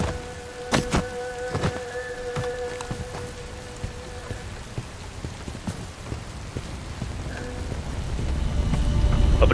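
Steady rain pours down in the video game Bright Memory Infinite, a dense continuous wash of drops with a few sharp game sounds and tones over it, building slightly louder toward the end.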